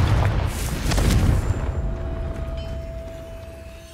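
A Confringo explosive spell in Hogwarts Legacy bursts with a deep, rumbling boom that swells in the first second and a half, then fades into a long, low decaying rumble, heard alone without talk.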